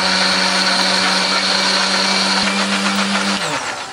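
A kitchen blender grinds turmeric, bird's-eye chilies, shallots, garlic and candlenuts with a little water, a loud continuous motor whine with no talk that drops in pitch as it winds down at the end.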